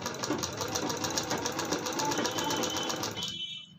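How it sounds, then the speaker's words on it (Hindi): A sewing machine runs steadily while stitching piping onto a long-sleeved blouse, a continuous close whirring hum that stops abruptly near the end. "इसी तरीके से सिलाई लगाएंगे इसे सारे पट्टी को लगाना है पाइपिंग को"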